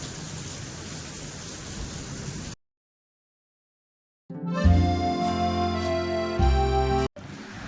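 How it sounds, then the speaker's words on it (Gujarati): Rain falling in a forest in Himachal gives a steady, even hiss for a few seconds, then cuts to silence, after which music takes over. "વરસાદ તો જો"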